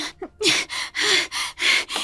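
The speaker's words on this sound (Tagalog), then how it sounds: "Anong nangyari? Bakit hingal na hingal ka?" Heavy, rapid out-of-breath panting from someone who has just run out of the forest: a string of loud, breathy gasps in steady rhythm, close up and with no talking.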